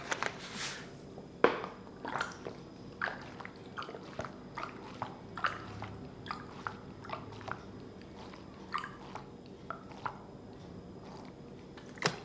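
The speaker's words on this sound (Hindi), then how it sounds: "मैं पानी तब तक पी लेता हूं।" A person drinks water in long gulps, a steady run of soft, close swallowing clicks at a regular pace, quiet and with no talking.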